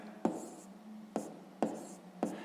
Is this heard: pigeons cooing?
no